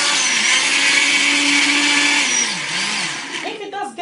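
A kitchen blender runs loud and steady, churning stew ingredients for a Nigerian Ofada stew, its motor pitch dipping and wavering near the end as the load shifts, with clattering at the close.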